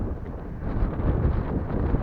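Strong, gusty wind of a summer storm roars and buffets the microphone in a continuous rumbling rush, rising and falling in loudness, with no voices heard.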